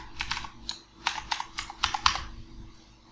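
A password is typed on a computer keyboard as a quick run of about a dozen crisp, close key clicks in an uneven rhythm, ending with a firmer tap.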